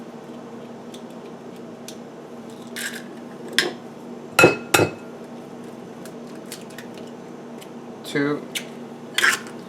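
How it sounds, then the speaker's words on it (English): Eggs cracked into a bowl for German pancakes, with several sharp taps and clinks spaced a few seconds apart, close and fairly loud, while someone talks briefly. "I crack the eggs in there"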